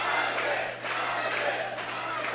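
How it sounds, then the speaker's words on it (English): A crowd at a Hybrid wrestling show cheers and shouts in a dense, steady roar, close and fairly loud, with voices mixed in. "Come on, cheer for that, Mike."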